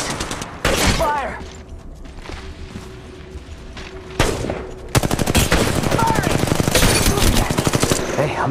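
Rapid automatic gunfire in the mobile battle royale Apex Legends Mobile, loud and close, with a short burst early, a pause, then a sustained rattling stream of shots to the end, voices briefly audible.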